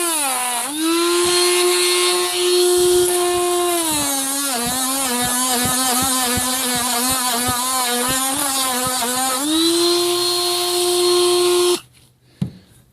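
A power tool polishes a Ford 6.0L nipple cup, a loud steady high whine that wavers in pitch while the tool works the metal, then cuts off abruptly near the end, with no talk.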